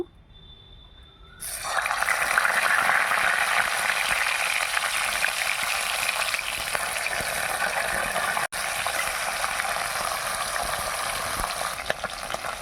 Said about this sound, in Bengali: তেল খুব ভালো গরম হয়ে গেছে এবার আমি মাছগুলো সব ভেজে নেব